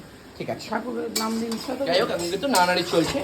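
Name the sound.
fish roe being sautéed and stirred in a pan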